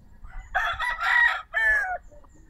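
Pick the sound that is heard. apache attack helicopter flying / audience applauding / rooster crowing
rooster crowing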